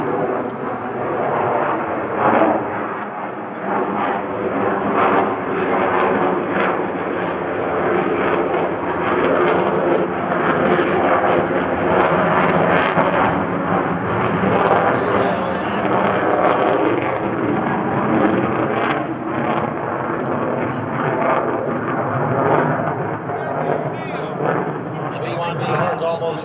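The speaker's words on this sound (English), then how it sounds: "Watch as he continues this combat climb right over the airport now to" A Rockwell B-1B Lancer jet bomber makes a combat climb over an airport, producing a loud, steady, rumbling engine roar that holds without a break throughout.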